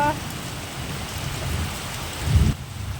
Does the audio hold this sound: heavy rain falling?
yes